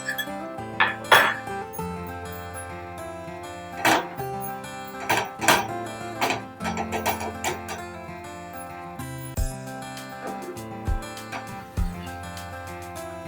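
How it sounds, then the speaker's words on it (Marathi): Metal spoon scraping and clinking against a pan while khoa is stirred into carrot halwa, with irregular close knocks and rattles and quieter scrapes between them. "आता आपण त्यामध्ये खवा मिक्स करू।"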